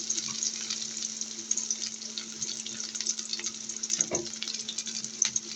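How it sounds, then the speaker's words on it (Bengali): Chopped onions and green chillies fry in hot oil in a pan, giving a soft, continuous crackling sizzle with small popping bursts and an occasional stir, heard close and alone without voices. "এই যে আমার পেঁয়াজটা ভাজা হচ্ছে"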